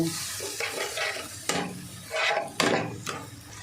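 Spice masala being stir-fried over medium heat in a pan for an egg and boiled potato dish, with a steady sizzle broken by several scraping strokes of a spoon against the pan, close and fairly loud, with no voices.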